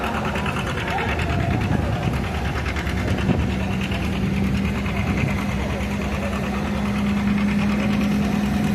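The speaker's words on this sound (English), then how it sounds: "that's Cody Hooker from Clayton, Kansas on a 1952 John Deere Model R" A 1952 John Deere Model R tractor at an antique tractor pull gives off a steady, loud, low chugging engine drone, with the open-air crowd noise of the event mixed in.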